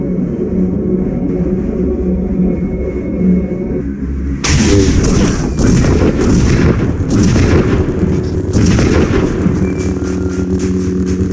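Imperial artillery fire on the ice planet Hoth in the Star Wars Jedi Knight video game: after a low mechanical hum, loud booming barrages erupt and continue in rapid, rumbling succession.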